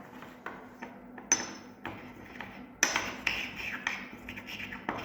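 Purple plant leaves being ground with solvent, likely in a mortar and pestle, make a series of sharp taps and scraping knocks, close and fairly soft, recurring irregularly without speech.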